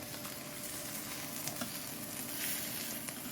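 Portobello mushroom strips sizzle steadily in a hot pan, with a close, dense crackle and soft scraping as the strips are stirred and turned over.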